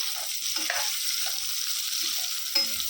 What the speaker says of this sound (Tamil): இப்படியே கையோடாமல் நல்லா வதக்கிக்கலாம்